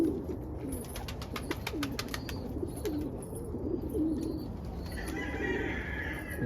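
Roller pigeons in a loft on a cold morning, low throaty cooing repeating under a steady hum of background noise, with a burst of quick clicking or ticking early on and faint brief chirps later.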